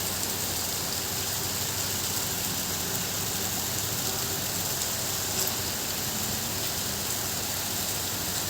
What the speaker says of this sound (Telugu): చూడండి చాలా హెవీగా ఉంది వర్షం, అసలు బయటకు వెళ్ళటానికి కానీ ఏమీ లేదు